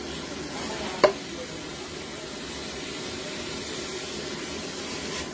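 Ingredients for pancit sauté in a pan with a steady, soft sizzle throughout, broken once early by a sharp clack of a utensil against the pan.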